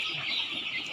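Young three-breed crossbred chickens, mostly hens about 18 days old, clucking and chirping in a steady, dense chorus close by with no talk over it.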